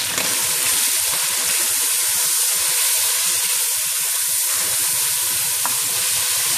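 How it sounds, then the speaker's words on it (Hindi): Garlic and ginger paste sizzles and fries steadily in a hot pan for a recipe of chicken achari chana dal, with spoon stirring scrapes throughout, close and continuous without talk. "एक दो मिनट हम इसके साथ ही इसको फ्राई करेंगे।"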